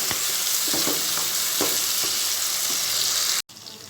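Steady hiss of dried fish, onions and tomatoes sizzling in a hot pan, with a few soft stirring clinks, cutting off abruptly near the end.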